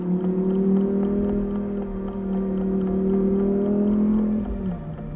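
A 2020 Lamborghini Huracan Evo Spyder driving along steadily with a loud, even engine drone that sags slightly near the end, with no talk over it.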